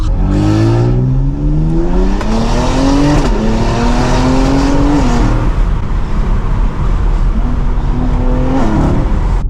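A stage 2+ tuned BMW X3M roars loudly from inside the cabin while driving, its engine revving up through rising sweeps, dropping briefly between shifts, and climbing again in a continuous, aggressive drone.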